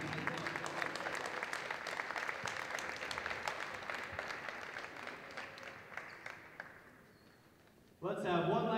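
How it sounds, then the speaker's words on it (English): A crowd at an Elmhurst College wrestling meet against Concordia University Wisconsin applauds the team's senior members, a sustained clapping wash that gradually fades before a voice begins talking over the arena at the end. "Let's have one last round of applause for your senior members of the Elmhurst College Wrestling Team."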